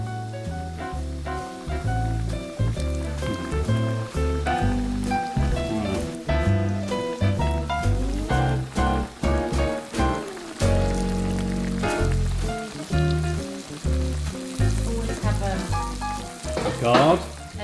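Buttermilk-coated chicken frying in hot oil, a loud, steady crackling sizzle with bursts of spitting and bubbling close by, continuing without pause.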